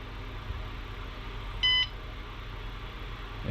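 An RV lithium battery meter (GoKwh 100Ah battery) sounds its low-voltage alarm, a single short electronic beep burst standing out clearly over a steady background hum.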